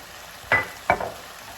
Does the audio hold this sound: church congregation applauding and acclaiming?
no